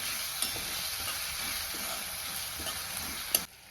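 Chopped tomatoes, green chili, garlic and ginger drop into frying onions for a cauliflower curry, giving a dense, close sizzle with light rhythmic stirring clatter and a sharp utensil knock near the end.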